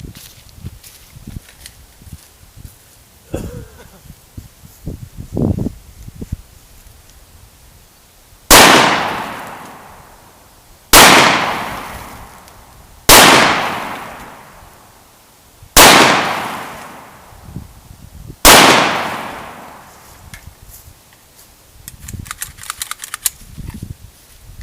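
An FN 5.7 pistol fires 5.7x28mm rounds: five loud, sharp shots spaced a few seconds apart, each with a ringing decay, preceded and followed by quieter handling clicks and rustling.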